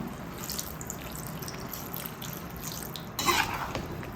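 Water goes into a pan of chana masala cooking on the stove, with a steady low sizzle and bubbling and a short louder splash of pouring near the end, heard close.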